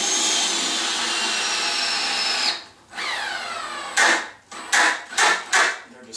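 A power drill drives 2-inch screws into the wood of a table saw work station, fastening its top to the frame: a sustained rising whine, then several short close bursts as screws seat.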